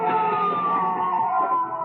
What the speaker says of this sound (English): Wait, listen. A police car.